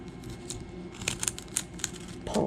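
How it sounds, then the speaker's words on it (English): Whittling knife slicing shallow pull cuts through bark on a small carved fairy door, a series of short scraping, crackly strokes close by over a steady low background hum. "Pull cuts, lay your blade almost flat,"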